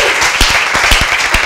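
Audience applause for a game-show contestant, a steady wash of clapping throughout with sharper individual claps standing out, loud and close, no talking.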